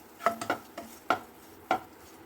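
A spoon scraping and clinking against a pan while sugar is stirred into mawa, about five crisp metallic taps spaced irregularly, close and fairly quiet.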